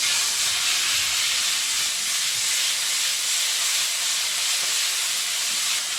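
Anchovies and dried tomatoes sizzle steadily in olive oil in a pan, a loud, continuous bright hiss that stays even throughout with no talking.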